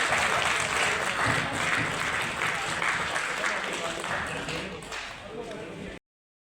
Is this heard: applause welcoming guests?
yes